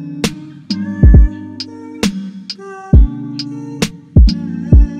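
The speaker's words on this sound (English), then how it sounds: "Next up for the snare, I couldn't find any snares that sounded close enough, so I made this one myself." A custom-made snare drum sample for a remake of a song cracks sharply at spaced intervals. Each hit sits within a sparse beat alongside sustained tonal notes and deep bass thumps.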